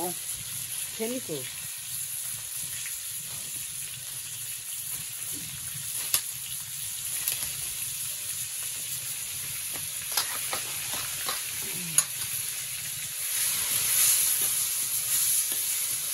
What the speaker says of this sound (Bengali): কড়াইতে পটল দিয়ে দেওয়া হলো।